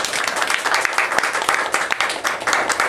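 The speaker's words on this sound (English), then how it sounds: "Let's have a big round of applause for Jeremy Udell." Brisk applause from a small audience at a speaking club meeting for an evaluator, close and loud with individual claps distinct in a dense, uneven patter.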